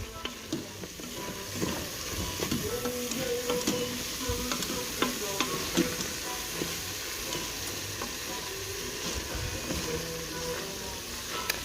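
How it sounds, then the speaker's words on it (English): Taco seasoning is stirred into a cowboy casserole in an Instant Pot set on a stove grate, giving a continuous close sizzle broken by frequent spoon scrapes and knocks against the pot, with no voices. "I'm just going to dump in my package of taco seasoning and kind of get that mixed up pretty good."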